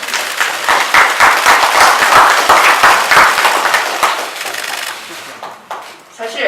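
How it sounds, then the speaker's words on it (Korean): A political party gathering in Korea breaks into loud, dense applause for the floor leader. A crowd's sustained clapping thins and fades toward the end. "박수 한번 보내주시기 바랍니다"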